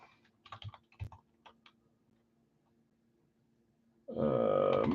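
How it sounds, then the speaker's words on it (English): Rapid keyboard typing by a sports card break host, a burst of clicks early on, then a loud, dense sustained sound cuts in near the end. "You can't see me, but I'm typing it over here."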